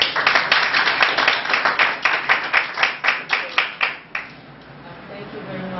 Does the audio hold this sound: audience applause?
yes